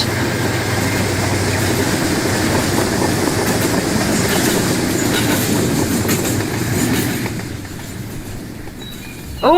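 A CSX model train runs in the Rolling Line game with a loud, continuous rumble and rhythmic clickety-clack of wheels on rails. It fades near the end before a brief new burst.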